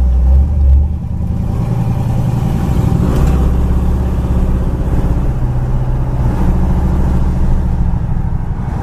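A white 1964 Buick hardtop drives straight down the road, its engine rumbling steadily with continuous road and wind noise, close and loud throughout, with no talking.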